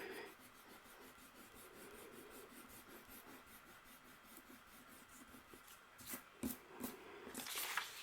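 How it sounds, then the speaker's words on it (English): Soft, quiet rubbing of an eraser on drawing paper, in a steady run of short strokes, with a few sharper, louder scrapes near the end and no voices. "We get the amazing eraser in place."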